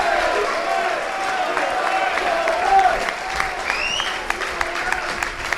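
A large football crowd at a Cambridge versus Ipswich match roars and claps in a steady, dense wash of noise as the players come out, with a person talking close by over it.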